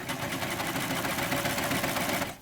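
A serger sewing machine runs steadily while trimming about an eighth to a quarter inch from a single layer of fabric, giving a continuous, close, rapid mechanical whir and chatter throughout.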